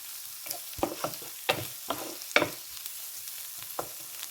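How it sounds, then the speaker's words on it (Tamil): Onions sautéing in a pan for a prawn and potato stir-fry, with a steady soft sizzle and a run of sharp scraping stirs that clatter irregularly, close and moderately loud with no voices. "வெங்காயம் எல்லாம் வதங்கி வந்துட்டுது. இது கோல்டன் ப்ரௌனாக வரணும் வண்டியில்."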